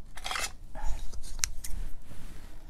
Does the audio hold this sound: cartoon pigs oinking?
no